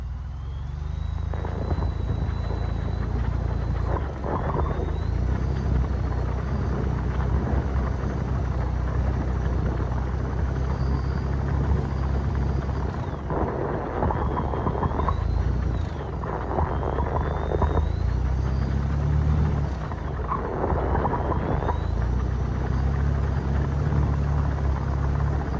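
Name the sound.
truck tires spinning under light throttle, 2.7 liter engine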